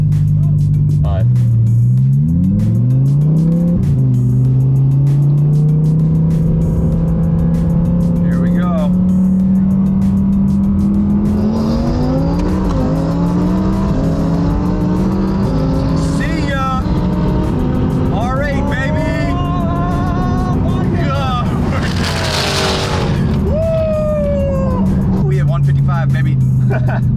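A 1,050-horsepower Audi R8 race car on a track, its engine roaring loud and close as it climbs through gears with rising, sweeping tones and brief shifts, while a voice talks over it throughout.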